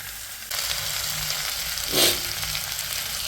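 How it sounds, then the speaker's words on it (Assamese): Tomatoes sizzle loudly as they fry with chicken in a pan, a steady bright hiss with a brief louder surge of sizzling partway through, stirring audible. "এতিয়া বিলাহীখিনি ধুনীয়াকৈ ফ্ৰাই কৰোঁ"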